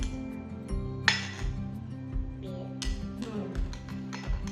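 A spoon clinking against a container while baking soda is stirred in, a series of close, sharp ticks and taps at an uneven rhythm over a low steady hum.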